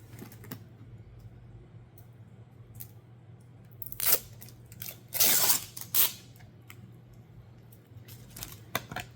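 Clear packing tape being pulled and cut to seal a wintersowing container for seed starting, heard as a few short, sharp rips and snips between about four and six seconds, with quieter handling clicks before and after against a steady low hum.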